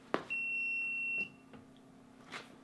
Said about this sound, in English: Just my little chicken alarm letting me know my humidity went down because I opened the cover